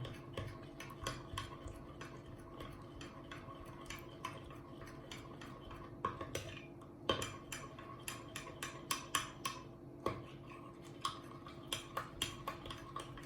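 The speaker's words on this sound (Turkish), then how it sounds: "Ve karışana kadar iyice karıştırıyoruz." A spoon stirs mocha coffee with melting chocolate in a cup, giving soft, irregular clinks against the sides that become more frequent and distinct over a faint steady background.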